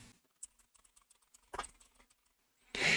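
Quiet, close keyboard typing with a run of light irregular keystrokes, some louder clacks, and a heavier burst at the end.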